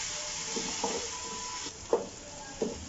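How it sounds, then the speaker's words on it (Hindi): Tomato and green chili paste with browned garlic frying in a pan, a steady sizzle punctuated by a few soft stirring scrapes and knocks, close and moderate in level, with no talking. "अब हम इसमें टमाटर और सब्ज मिर्चों का ये मवाद डाल देंगे सारा, और हम इसको भूनते हैं।"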